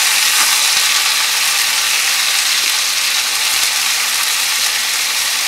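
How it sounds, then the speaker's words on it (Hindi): Cluster beans (guar) fry in oil in a pan over a medium flame, giving a loud, steady, hissing sizzle that stays even and unbroken throughout with no voices. "अपनी फलियों को मिक्स करके हमने 2 मिनट बहुत अच्छे से भून लिया है ऑयल के अंदर"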